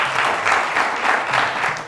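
A room of people clapping at a secondary school quiz competition, a steady and fairly loud wash of applause with a slight pulsing swell and no talk over it.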